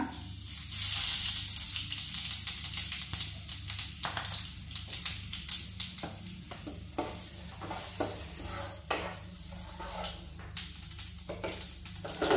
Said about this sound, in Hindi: सो हांवें पॅन दवरला तापत, तितून बटर घातला, तो मेल्ट जाल्लो आसा. सो आमी हितून न्हू जिरे घालुया.